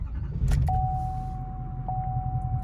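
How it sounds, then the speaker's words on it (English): A GM vehicle's engine is cranked and started, giving a steady low rumble with a brief click near the start and a faint electronic chime tone held over the idle; no speech. "I'm going to start the vehicle."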